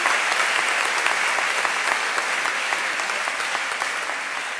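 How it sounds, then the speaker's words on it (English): An audience claps steadily at a high school honors ceremony, a dense, sustained wash of applause from a crowd in a hall that carries on evenly throughout. "Please give these students a well-deserved round of applause"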